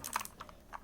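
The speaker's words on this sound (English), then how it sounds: "So wired gaming keyboard from Red Dragon." Keys clack on a Red Dragon wired mechanical gaming keyboard, a quick burst of several sharp clicks followed by a few more spaced strokes, close and fairly faint, with no talking.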